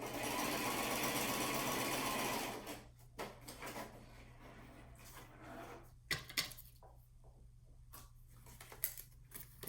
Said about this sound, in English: I'm going to sew it on the scrap.